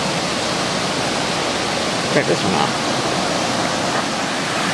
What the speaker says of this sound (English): out of Camp Creek at Mash Fork Waterfalls